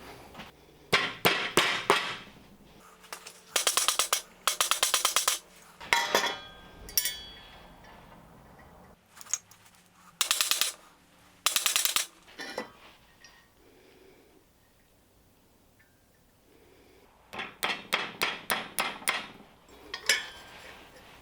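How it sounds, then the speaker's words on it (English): Metal is hammered on a Harbor Freight anvil during repairs to a mini K-type rocket stove: clusters of sharp ringing blows come in irregular bursts with pauses, close and loud. "I'm going to use my Harbor Freight anvil here"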